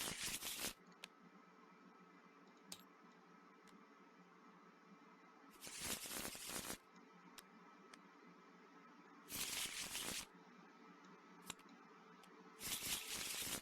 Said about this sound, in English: Then my discard pile gets shuffled.